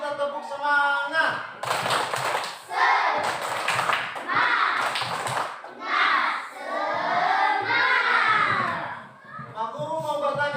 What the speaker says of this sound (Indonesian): Ayo kita tepuk semangat.